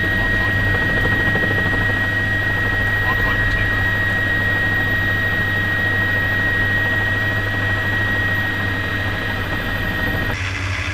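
Grumman Duck and Albatross aircraft engines droning in formation, a loud continuous steady roar with a constant whine, with crew radio talk faintly underneath.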